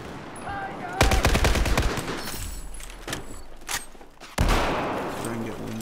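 SCAR-H rifle gunfire in Battlefield 4, a rapid burst of close, loud shots followed by a few scattered single shots and another loud blast near the end.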